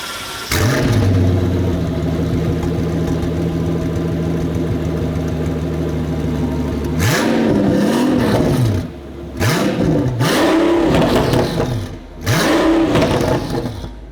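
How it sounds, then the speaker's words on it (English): A car engine idles steadily after a cold start, then revs up several times in short bursts, each rising and falling, loud and close with no talking. "It really wasn't that cold of a cold start, but it sounds pretty good."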